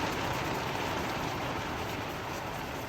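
Steady broadband hiss of rain just starting to fall, a dense even patter with no clear pauses, constant in level throughout.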